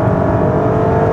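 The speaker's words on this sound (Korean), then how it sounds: "4000rpm 이상의 또는 고회전에서는 당연히 엔진 소리가 커지죠." A 2025 Audi Q8 55 TFSI quattro engine revving at high rpm, a loud, steady, dense engine roar heard close up throughout a brief moment, with no talking.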